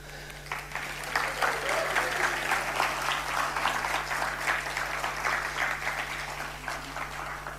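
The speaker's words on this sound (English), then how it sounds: "How about a round of applause for the speakers and for your host, Hideki?" An audience at a business seminar gives a sustained round of applause, steady dense clapping filling the room at an even level for several seconds.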